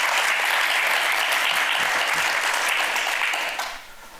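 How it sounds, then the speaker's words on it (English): A theater audience claps steadily and loudly for the filmmakers of Pistachio Wars at a screening Q&A, dense sustained applause that tapers off sharply near the end. "So a round of applause for"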